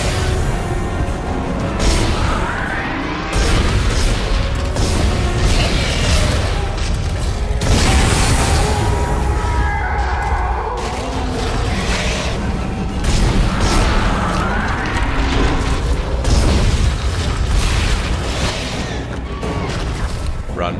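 Gunfire and heavy explosions from the Dead Space 2 video game boom continuously and loudly, with bursts layered over one another throughout.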